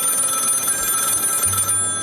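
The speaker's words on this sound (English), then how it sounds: "All of a sudden, the phone begins to ring." An old telephone bell rings steadily, a bright, continuous metallic trill near and loud, with a low hum entering toward the end.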